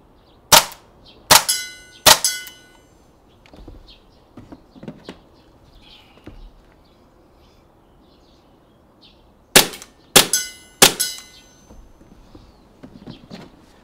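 An M17 BB pistol fires in quick bursts, sharp loud cracks three in rapid succession, then after a pause another rapid group of three, with faint handling noise in between.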